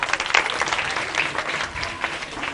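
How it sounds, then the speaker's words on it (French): A school audience applauds the jury members at a televised kids' quiz show, steady dense clapping filling the whole stretch at close range with no voices over it. "Veuillez applaudir les membres du jury."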